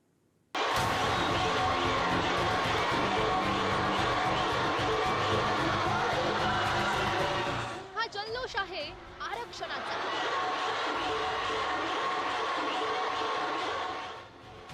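Dense, loud crowd celebration as Maratha community members cheer a reservation victory won by Jarange Patil's movement in Maharashtra, with voices shouting together throughout and a brief dip in the din partway through.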